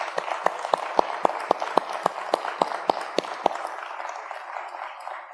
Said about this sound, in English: So how about a round of applause for our sponsors?